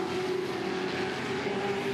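Touring cars, including a Ford Falcon, race at Barbagallo Raceway, with a steady, loud engine drone holding a constant pitch throughout and no speech.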